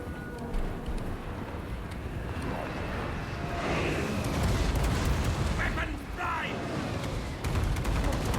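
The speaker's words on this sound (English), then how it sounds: "now they're taking gunpowder fire from us too" Gunpowder volleys crackle and boom through a Warhammer 3 battle, a dense rolling din of shots and blasts mixed with clashing chaos, loudest in bursts near the end, with a voice talking over it.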